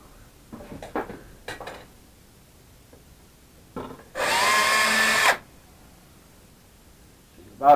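A DeWalt power tool, likely a drill, runs in one steady whirring burst of about a second, preceded by brief clatters of handling and a short knock at the end.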